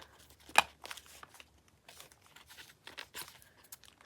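Paper being crunched up by hand for a handmade flip flop journal, a quick loud crinkle followed by softer, scattered rustles and crackles close by, with no talking.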